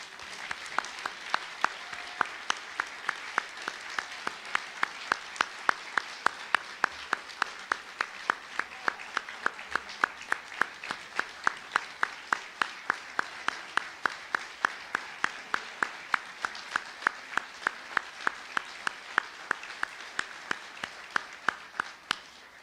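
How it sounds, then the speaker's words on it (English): Sustained audience applause at a university societies dinner, a steady dense roll of many hands clapping with crisp close claps on top, continuing evenly for over twenty seconds. "ask you to all join me in a round of applause"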